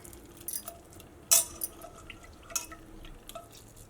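Tamarind squeezed by hand in a bowl of water for an ash gourd curry: quiet, scattered drips and small splashes, with one sharper wet splash standing out, no talking.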